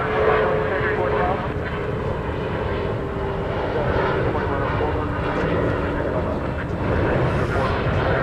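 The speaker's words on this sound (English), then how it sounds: "the aircraft we saw taking off was Flight 6245, American Eagle to Houston, Texas, CRJ" A CRJ regional jet on an American Eagle flight takes off at night from DFW Airport, a continuous broad engine roar filling the background while a person talks over it throughout.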